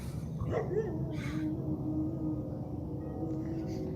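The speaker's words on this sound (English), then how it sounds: "Is that what the dog was barking at the whole time?" Neighbor's dog barking and yelping in the distance, a few short cries early on, then a drawn-out whining howl over steady outdoor background noise.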